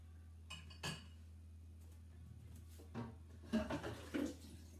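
Dishes clink quietly as plates are set into a dishwasher rack, a few separate faint knocks and rattles over a steady low hum, with no talking.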